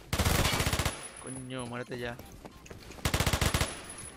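Rapid automatic bursts from an SR-3M rifle in the shooter game Phantom Forces crackle loud and close, one burst at the start and another near the end, with a voice speaking between them.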